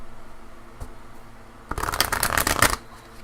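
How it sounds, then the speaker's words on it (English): Oracle cards being shuffled by hand during a card reading: a quiet start with one soft tap, then a dense burst of riffling, flapping card noise for about a second before it stops. "We'll be through shuffling."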